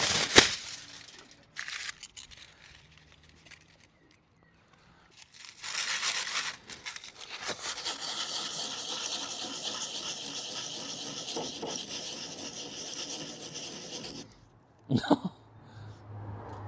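Tin foil scrubbing surface rust off the bumper of a VW pickup, a dry crinkling scrape in bursts with pauses and quiet gaps, then a long steady rubbing stretch close by, ending in a few sharp knocks.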